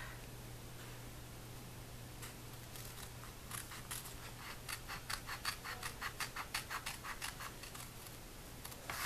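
Scissors snip through pieces of planner paper, a run of quick, close, crisp cuts that grows denser toward the end over a faint steady hum.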